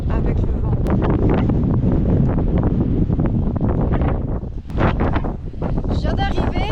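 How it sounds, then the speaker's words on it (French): Strong storm wind buffeting the microphone in the open at Caussols, a loud, continuous rumbling roar with gusty swells and a brief dip, a voice partly buried beneath it. "Le problème c'est que je suis énormément gênée avec le vent."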